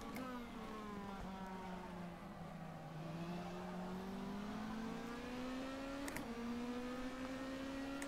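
Formula 3 race car engine in a racing video game at the Salvador circuit, a loud steady drone with rising and falling pitch as it accelerates and shifts gears, alone with no talk.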